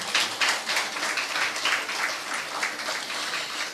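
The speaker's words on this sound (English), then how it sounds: "I ask that you give yourselves a round of applause" Applause from an audience of women at an evening awards gathering, a steady moderate patter of many hands clapping that holds evenly throughout without any voices.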